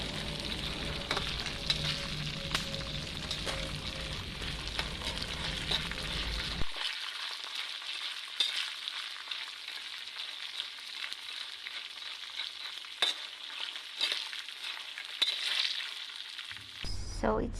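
Homemade peanuts frying in oil as they are stirred until crisp. A steady hiss and sizzle with occasional light clicks runs throughout, and the low rumble drops away partway through.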